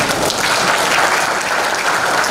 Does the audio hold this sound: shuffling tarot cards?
no